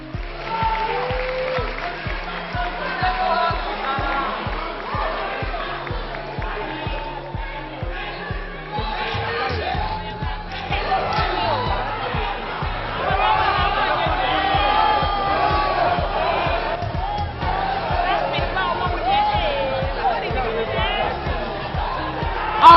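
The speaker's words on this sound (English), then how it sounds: "with a round of applause, let's have all of them on stage at this point" A crowd at a televised music talent competition cheers and claps as contestants come on stage, a long swell of whoops and applause blended with loud pounding stage music, with a voice heard over it at times.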